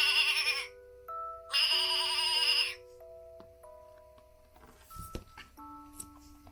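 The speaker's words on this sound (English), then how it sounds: "Let's see what a sheep sounds like." Two loud, wavering sheep bleats ring out close by, one after the other, followed by soft chiming musical tones.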